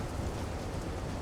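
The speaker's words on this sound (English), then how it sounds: "A lot of rain, a lot of fog." Heavy rain in the Silent Hunter 3 naval game, a dense, steady hiss of broadband patter with a low rumbling undertone, continuous and unbroken throughout.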